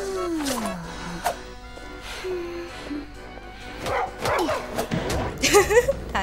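A dog barks and whimpers in the Bloody Queen video game during a 5v5 ranked match, a few yips and short barks scattered over game effects and a talking voice.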